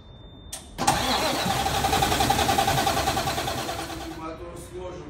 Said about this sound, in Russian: А ну-ка, запускай